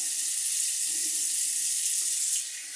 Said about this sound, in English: And let me rinse this off my face here.